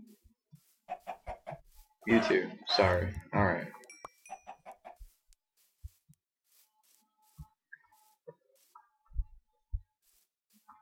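Soft, sparse clucks of a Minecraft chicken in the video game, heard mostly in the second half after a stretch of someone talking, with a few faint game clicks scattered throughout.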